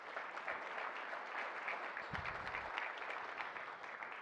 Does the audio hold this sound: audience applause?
yes